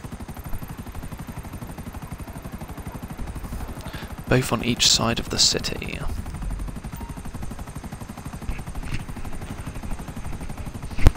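Constant rotor drone of a helicopter in a GTA casino heist game, running under a brief burst of talk in the middle.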